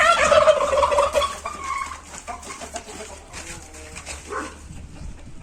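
A village rooster crows loudly and nearby at the start, its call fading into scattered barnyard noise and an occasional dog bark.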